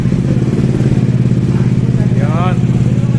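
A motorcycle with an ISC fault and a very low idle, running at a low steady idle after finally starting. The engine throbs evenly and continuously up close while someone speaks over it.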